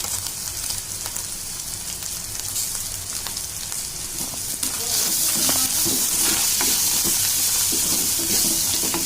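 Chicken coated in masala with fresh coriander sizzles and fries steadily in a pan, a continuous crackling hiss that grows louder and brighter partway through, with faint stirring and no talk.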